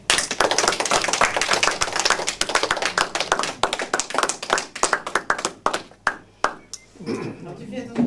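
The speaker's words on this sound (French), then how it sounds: "Nous applaudirons spontanément, simplement parce que nous aimons les chansons qu'elle nous présente." An audience applauding a singer's performance, a dense burst of clapping that thins into scattered individual claps before fading.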